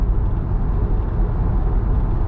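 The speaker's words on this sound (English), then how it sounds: "there is still wind noise" Steady broadband wind and road roar inside a China-built Tesla Model Y cruising at speed, a constant low rumble with airy hiss above, no voices.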